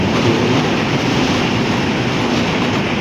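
A train pulling out of Halsa station rumbles loudly and continuously close by, with a steady dense roar and faint rhythmic wheel clatter throughout.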